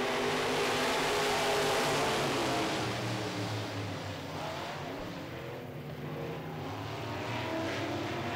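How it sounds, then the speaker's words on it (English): Midwest Modified race cars roar off at the green flag starting a dirt-track heat race, a loud, dense engine roar that swells then settles into a steady drone of several cars. "we are going green right away, ladies and gentlemen. We are racing with the Midwest Modifieds."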